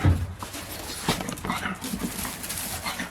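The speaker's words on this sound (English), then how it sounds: "cats and dogs having fun." Dogs play close by in a garden with a greenhouse, whimpering, yipping and panting in quick, uneven bursts.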